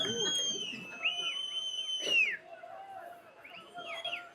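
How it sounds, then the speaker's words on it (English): Crowd at a solar eclipse viewing letting out whistles and whoops, several rising and falling sharp whistles over distant crowd noise, moderately faint and outdoors. "Why they insist on whistling and whooping"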